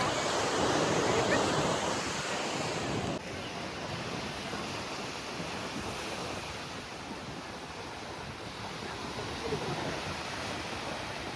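Ocean waves wash continuously onto Rock Beach in Pondicherry, a steady, loud roar of surf mixed with wind buffeting the microphone, slightly heavier in the opening seconds.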